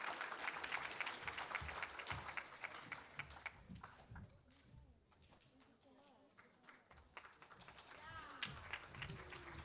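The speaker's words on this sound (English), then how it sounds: "So if we can get a round of applause for all of them" An audience at a Youth Link conference applauds with dense, sustained clapping that briefly thins, then swells again, with some voices mixed in.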